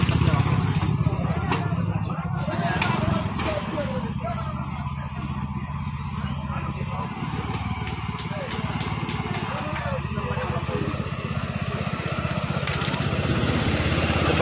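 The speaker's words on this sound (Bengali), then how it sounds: "গাড়িটা স্টার্ট হয়ে গেছে, তো আপনারা দেখেন এখন চালাবো।" A homemade vehicle built around a motorbike engine runs with a steady, rough droning idle close by, unchanging for the whole stretch, while someone talks over it.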